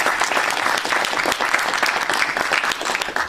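An audience at a French political talk on restoring the rule of law claps steadily, a dense continuous wash of applause at close range with no voices over it.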